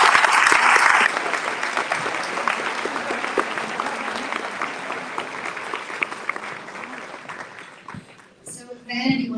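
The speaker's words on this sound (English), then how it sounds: "Can we please give her a warm St." Warm round of applause from the audience at an awards ceremony for a guest speaker, dense sustained clapping that starts loud, settles, and tapers off near the end as a voice begins.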